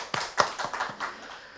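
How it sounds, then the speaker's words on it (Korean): A few scattered hand claps from a small audience at an urban regeneration forum, sharp and close for about a second before fading, sparse rather than sustained applause. "성남 환경운동연합의 이희애 사무국장님께 다시 한번 큰 박수 부탁드리겠습니다."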